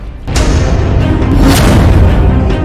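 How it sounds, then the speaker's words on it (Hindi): Russian artillery and rocket fire striking the Kharkiv area in the war with Ukraine, a loud continuous barrage of booming blasts and rumble with sharp bursts near the middle and start, with no talk. "अब आप ये भी देख लीजिए कि रूस का तोपखाना और रॉकेट आर्मी किस तरह से खार्किव इलाके में हमले कर रही है।"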